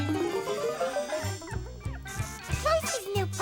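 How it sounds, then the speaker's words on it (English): A new puppy named Buddy yips and barks in quick, high, rising bursts over a bright musical background, the barks close and repeated throughout. "Elmo's friend Casey just got a new puppy and told Elmo all about it."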